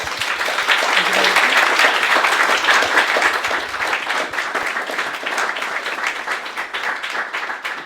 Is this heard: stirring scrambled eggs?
no